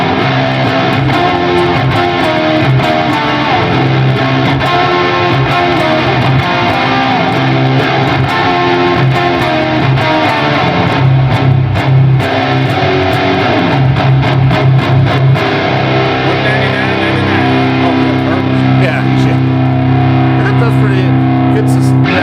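Electric guitar played through an Earthquaker Devices Ledges reverb pedal, a steady loud wash of sustained notes and chords with a slightly distorted edge, continuous throughout.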